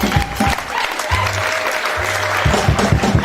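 Church congregation applauding to welcome the pastor at the opening of a worship service, dense clapping throughout with a low sustained tone from music or organ underneath and some voices mixed in.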